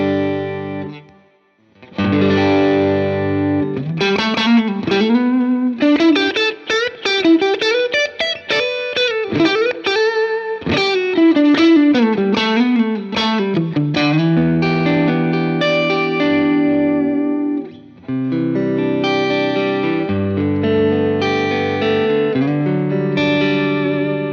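Electric guitar through a Browne Amplification Protein Dual Overdrive pedal, playing a fuller, thick overdriven melodic passage of sustained notes and bends, then ringing chords, loud and alone without talk.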